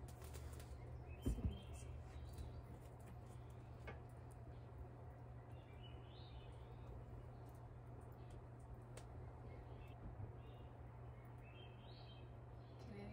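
Birds call among redwood trees along a coastal road, faint and distant: a few brief chirps and soft coos scattered over a steady low hum, with one short flutter near the start.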